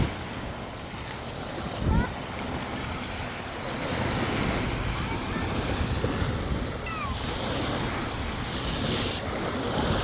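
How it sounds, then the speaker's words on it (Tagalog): Ocean waves wash continuously onto a beach in the Philippines, a broad steady surf roar with wind buffeting the microphone and faint voices at moments. "Sarap ng alon no. Ampas ng mga alon."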